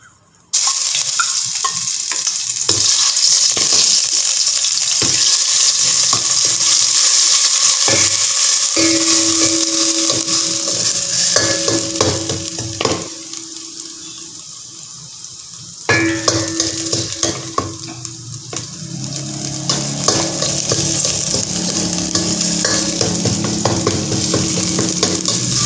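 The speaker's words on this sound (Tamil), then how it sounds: "எண்ணெய் ஊற்றிட்டு இப்போ இடித்து வச்சதை அதில் போட விடதான்." Pounded spices hit hot oil in a pan for fish ball and tofu soup, giving a loud, steady sizzle with stirring and scraping throughout, dipping briefly midway before surging again.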